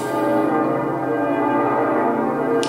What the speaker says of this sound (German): Just the bells are ringing.